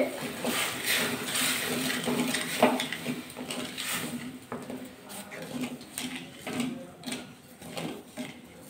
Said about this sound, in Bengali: নাড়াচাড়া করে চিনিটা গলিয়ে নিতে হবে।